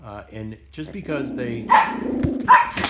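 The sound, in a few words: dog barking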